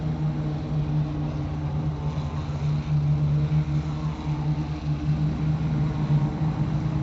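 Race car engines in Assetto Corsa Competizione at the Misano circuit hold a steady, droning hum, a continuous low mechanical tone that stays loud throughout with no clear revving peaks and no talk.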